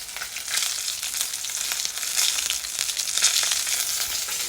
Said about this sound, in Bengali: মাছটা ভাজা করছি